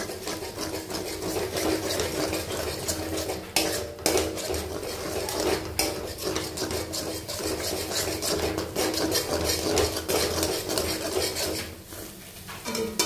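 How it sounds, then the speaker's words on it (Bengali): Beaten egg being stirred and scrambled in a pan for an egg bhujia: steady scraping and clinking of a utensil against the pan over a soft sizzle, moderately close, with irregular louder knocks and no talking. "এবার ডিমটা দিয়ে দিচ্ছি। ডিমটার ভুজিয়া বানিয়ে নেব।"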